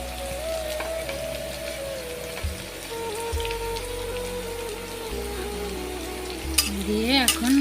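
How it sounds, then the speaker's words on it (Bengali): Chopped onion added to fried chillies in a pan, frying with a steady close sizzle and occasional stirring scrapes, a brief clatter near the end. "মরিচটা ভাজা হয়ে গেছে, এখানে আমি পেঁয়াজ কুচি দিয়ে দেব।"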